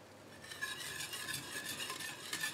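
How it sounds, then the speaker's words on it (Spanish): Spoon stirring melted chocolate and curd mixture in a pot for a no-bake two-chocolate cake, a continuous close scraping with rhythmic strokes over a faint sizzle as it thickens. "Y seguimos mezclando hasta que espese."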